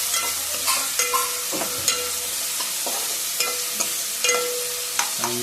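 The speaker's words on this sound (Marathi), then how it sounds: "आणि आता ढवला ढवल करायचं" Onions and tomato being stirred in a pan for a bitter gourd bharta, a low frying sizzle punctuated by regular scraping and knocking strokes of a spatula against the pan, close and clear, with no one speaking.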